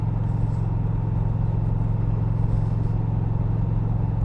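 A 2020 Indian Challenger motorcycle out on the road, its engine a continuous deep rumbling drone with steady wind rush, held at an even pace throughout, no talking over it.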